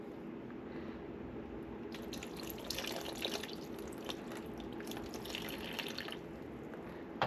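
Fig cuttings rinsed in water with peroxide, a steady trickling and dripping splash with soft squishy handling, continuous and fairly faint, close up.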